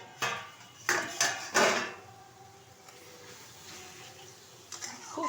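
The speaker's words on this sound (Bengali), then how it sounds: "ঢাকনাটা তুলে দিচ্ছি।" A metal lid is lifted off a cooking pot of spicy puti fish curry, with three or four sharp clanks close together at the start, then quiet pot noise and a couple of lighter knocks at the end.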